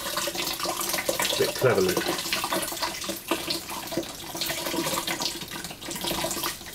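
Shino glaze poured over a pottery pot, a steady liquid splash and trickle running continuously at close range, with a brief voice speaking partway through.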